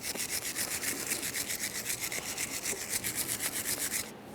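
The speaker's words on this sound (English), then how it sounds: "To clean these, you can just use a wire brush" A wire brush scrubs a rear brake caliper bracket on a 2011-2020 Toyota Sienna in quick, even back-and-forth strokes, close and rhythmic, stopping abruptly near the end.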